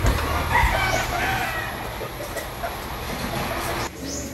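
A rooster crows at a distance in a rural home setting, its call rising over a steady background hum, with a second crow near the end.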